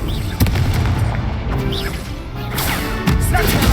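Heavy booming blasts from a fire spell cast in the Hogwarts Legacy video game, loud close impacts repeating every second or so over rumbling combat noise.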